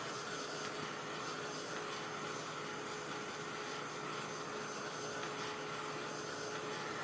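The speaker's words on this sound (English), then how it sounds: "And then I'm just going to go ahead and use my little dryer here." A small handheld dryer blows steadily and close by, drying chalk paste on a football-themed sign, a continuous even whir with no talking.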